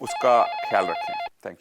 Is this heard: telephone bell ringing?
yes